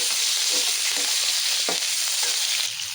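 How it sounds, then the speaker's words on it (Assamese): Onions sizzle and crackle steadily in hot oil in a home kitchen pan, a continuous close frying hiss with a few soft stirring scrapes and no voices. "ফ্ৰাই হৈ গ'ল, এতিয়া এইখিনি তেলতে পিঁয়াজ দি দিম।"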